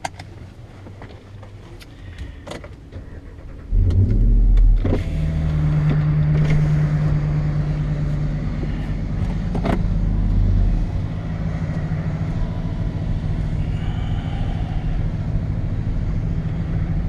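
A heavy haul truck drives along with a deep, steady engine rumble and road noise recorded close from the cab, growing louder after a few seconds, with light clicks and knocks on top.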